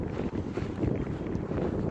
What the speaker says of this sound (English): It's very bloody windy.